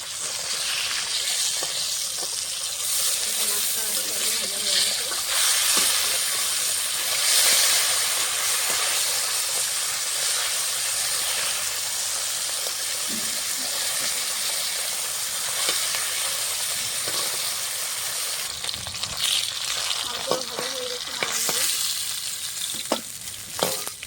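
Bata fish fries in hot oil for a curry with kochu (taro stem), giving a steady, close, dense sizzle that runs throughout, with a few louder crackling bursts near the end and no talking.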